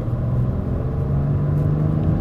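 A 2012 Mercedes S350 BlueTec W221 diesel sedan accelerating gently, heard as a steady, muffled low engine rumble from inside the cabin, continuous and even without talk.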